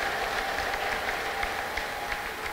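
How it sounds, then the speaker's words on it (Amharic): A church congregation applauds in a continuous, dense patter of many hands, steady and fairly distant, with faint voices mixed in the crowd noise. "እስቲ ለጌታ ከፍ ያለ እልልታና ጭብጨባ ስጡ።"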